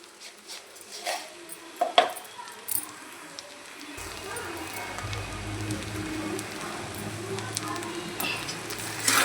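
Ash gourd and coconut barfi being mixed with sugar in a pan over low heat: a few spoon knocks and scrapes, then a steady bubbling sizzle rising from the middle onward, close, with no talk.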